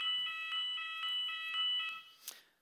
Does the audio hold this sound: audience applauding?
no